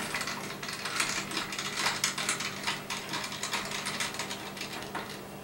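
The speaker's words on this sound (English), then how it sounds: "right where the screw is, right on this side of the ballast, I'm just going to go ahead and unscrew it" A screwdriver works loose the screw holding a fluorescent light fixture's ballast, giving a steady run of close, crisp ratcheting clicks for about five seconds with no talking.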